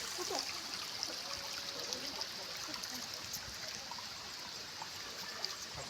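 Water trickles and flows steadily in a rocky pool near a waterfall, a soft, continuous outdoor wash with faint splashes and no clear voices.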